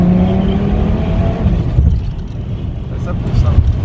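A 600 hp Audi RS3 pulling hard uphill, its engine a loud, continuous droning roar that dips briefly mid-way, with wind noise and people talking inside the car over it.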